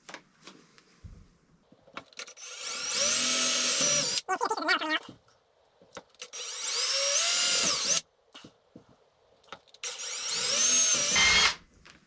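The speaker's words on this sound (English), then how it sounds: "let me put this on the drill." A power drill whines loudly in three long bursts, each revving up and cutting off abruptly, separated by quiet pauses with faint handling noises.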